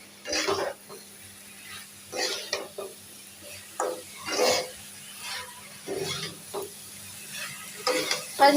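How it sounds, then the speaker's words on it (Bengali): Ginger, garlic and onion pastes with salt, turmeric, chili and coriander powders being stirred and sautéed in a pan, soft scraping strokes in irregular bursts over a faint sizzle. "সুন্দর করে কষিয়ে নিয়েছি"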